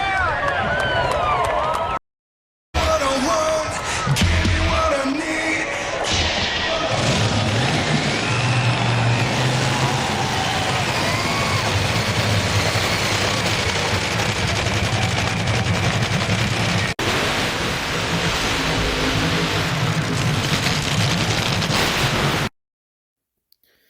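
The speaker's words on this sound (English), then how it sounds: "the burnouts are complete for Corey Mack and Scott Kalita" Top Fuel dragsters do burnouts at the NHRA Philly CheeseSteak Nationals, a loud, crackling roar that is sustained apart from a brief gap early on and cuts off abruptly near the end.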